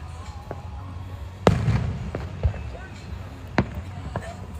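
Fourth of July fireworks burst outdoors at night, a few sharp booms spaced seconds apart with crackling tails, heard under ongoing talk.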